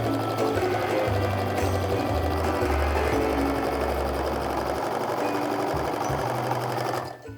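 A sewing machine stitches a quilt seam in a fat quarter pattern with a fast, continuous close-up whir that runs unbroken for several seconds before stopping abruptly near the end.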